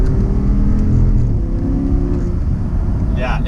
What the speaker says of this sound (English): Oh, I love that downshift.